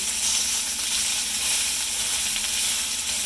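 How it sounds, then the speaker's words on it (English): Steady, close sizzle of onions frying in a pan for chicken fajitas, a continuous bright crackling hiss with no voices, holding even for a few seconds. "You can hear that sizzle. That's how you know your pan is warm enough."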